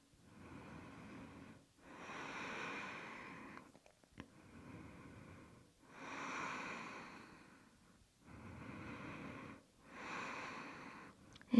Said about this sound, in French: Encore 3 longues respirations.